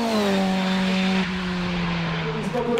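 Dallara F397 sport race car at a Dunières hill climb, a loud, steady high-pitched engine drone that drops in pitch partway through as it passes, with no voices.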